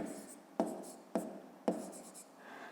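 A pen scratches across paper while a math exercise is worked out, making quiet, close scribbling strokes broken by three sharp taps.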